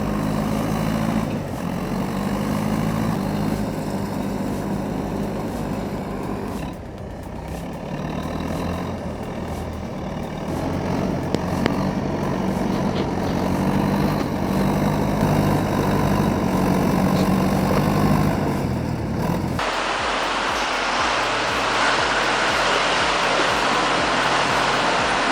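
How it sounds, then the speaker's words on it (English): A Ural 4320 truck with a Kamaz engine runs steadily at close range, working against a river current in deep snow, its low diesel rumble continuous and shifting in tone partway through, with no voices. "That Ural 4320 with the Kamaz engine is really earning its keep against this current."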